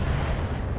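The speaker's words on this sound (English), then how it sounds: "Yeah, 3 missiles hit." Missile impacts in the RogueTech mech video game, a dense, booming low rumble of explosions rolling continuously for under a second, loud and without speech.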